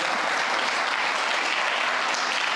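Loud, dense applause from a church congregation fills the whole stretch as a steady wash of clapping hands, with no voices rising above it.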